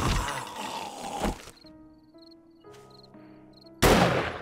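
A gunshot in the Ravenhearst video game lands as a sharp, loud burst at the start and again near the end, with quieter game tones and a faint musical ringing between the shots.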